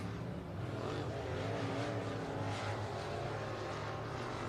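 IMCA modified race cars circle the dirt oval at Barona Speedway in Lakeside, California, a dense, distant engine roar rising and falling in a steady wash throughout.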